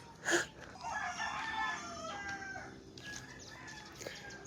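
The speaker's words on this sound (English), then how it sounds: "Can always hear chickens everywhere." Chickens cluck and a rooster crows nearby in Bicol, Philippines, with a sharp squawk at the start followed by a drawn-out crow and scattered clucking.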